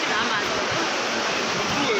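Water feature in a mall opposite the Haram Sharif, a steady rushing splash of falling water, close and continuous, with faint voices beneath it.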